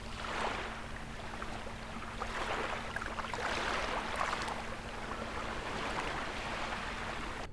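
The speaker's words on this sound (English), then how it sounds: "Here's a short audio clip of the waves on the beach side of the island." Small waves wash and crash onto the beach side of an island in the Maldives, soft repeated surges of surf over a faint steady low hum, fairly quiet and continuous.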